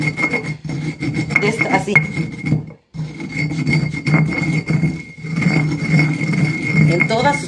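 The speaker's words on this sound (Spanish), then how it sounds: "En todas sus paredes del molcajete le tiene que uno que ir tallando." Pestle grinding and scraping around the inner walls of a volcanic stone molcajete after rice has been ground in it, a steady close rasping rub that runs throughout while someone talks over it.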